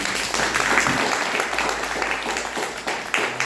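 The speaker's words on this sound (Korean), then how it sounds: "지금까지 그 2시간 동안 수고해 주신 우리 강사님께 다시 한번 박수" Audience applause for a lecturer at the end of a two-hour talk on apartments and future cities, a steady broad wash of many hands clapping continuously at moderate loudness, filling the room without clear pauses.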